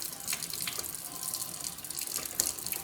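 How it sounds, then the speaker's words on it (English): Hot water runs steadily from a kitchen tap into a sink for rinsing neck bones, a continuous close splashing rush with small spatters throughout. "We need to turn on some hot water for this"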